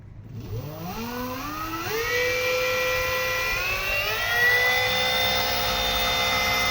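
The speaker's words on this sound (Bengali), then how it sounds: "মোটরটা পারফেক্টভাবে ঘুরতেছে" An electric motor spins up during a controller repair test, its whine rising steadily in pitch and then holding a sustained tone, loud and close with no talking.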